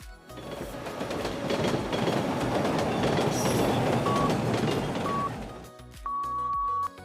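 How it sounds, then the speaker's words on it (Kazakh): Train wheels clatter steadily on the rails for several seconds, loud and close, then fade out before a few short electronic chime tones. "Пойыз дөңгелегінің дауысы."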